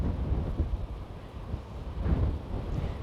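Gusty wind buffets the microphone on an open field in Cumbria during metal detecting, a loud low roar that rises and falls in swells.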